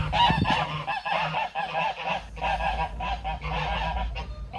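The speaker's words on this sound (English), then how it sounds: "The chickens are coming to have an investigate" Farmyard birds honk and squawk repeatedly close by in an outdoor setting, their calls coming in uneven bursts with short pauses.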